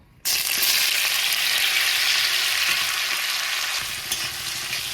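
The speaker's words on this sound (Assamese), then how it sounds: "তেলখিনিত এতিয়া এইফালে বিলাহী আৰু পিঁয়াজ কাটি লৈছোঁ। এইখিনি অকণমান এতিয়া ভাজি ল'ম।" Sliced tomato and onion frying in oil, a loud, steady crackling sizzle that starts suddenly and keeps up close, with faint stirring taps and no talk.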